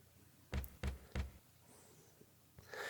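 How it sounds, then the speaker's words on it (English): Three light knocks on a wooden door in a video game, evenly spaced and close, followed by faint quiet rustling and a soft brush of noise at the end. "You knock lightly on Albert's door."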